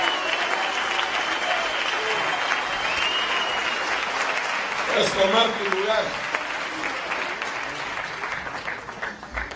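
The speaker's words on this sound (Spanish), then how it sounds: "Dale un aplauso al Rey." A church congregation at a pastors' retreat in Guadalajara applauds steadily and loudly, a dense sustained wash of clapping, while someone speaks in Spanish over it partway through.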